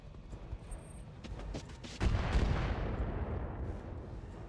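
Weapons fire in the RogueTech mech combat game, with scattered thumps building to a heavy booming blast that rolls into a sustained rumbling roar, loud and close.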